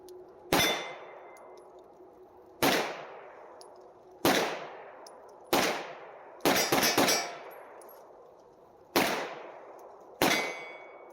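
Single shots from a Rock Island TCM/9mm pistol firing Full Metal Jacket rounds, seven sharp loud reports with ringing decays. They come at uneven spacing of one to two seconds, and two land close together near the middle.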